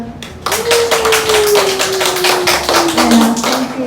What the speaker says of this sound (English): thank you for the clap